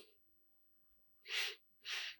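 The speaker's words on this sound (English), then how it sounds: "Breathing out." Two slow, amplified out-breaths during a qigong breathing exercise, each a broad breathy hiss lasting about half a second, close to the mic, separated by a short pause after a quiet stretch.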